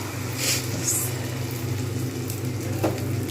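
Rice batter for Bengali sorucakli pitha sizzles steadily in a hot pan, a close, even frying hiss with a few soft scrapes and no one speaking.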